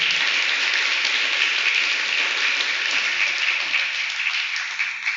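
Loud, continuous applause from a church congregation at a worship service, dense and sustained, then easing slightly toward the end.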